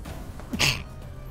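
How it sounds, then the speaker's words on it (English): A single sharp sneeze from a person during a gaming session, a brief close burst with a quick intake just before it, otherwise quiet. "I'm gonna sneeze. I feel it."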